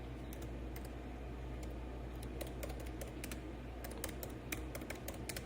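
Computer keyboard keys are tapped in quick, irregular bursts of light clicks, fairly close but quiet, over a steady low background hum with no talking.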